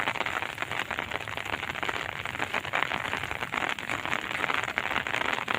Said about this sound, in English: at this time the weather is very lovely and clear and also raining guys